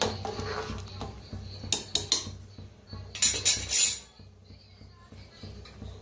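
A spoon clinks and scrapes against a metal cooking pot while rice with spices and a little sugar is mixed, a few sharp metallic knocks and stirring scrapes sounding close over a low background hum.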